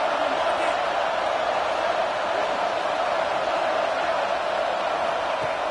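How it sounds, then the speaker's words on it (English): Crowd noise at a Florida vs Alabama college football game, with fans near the goal line roaring as one steady, dense wall of sound that never lets up. "The crowd really making some noise now, trying to help out this defense to get this stop near the goal line."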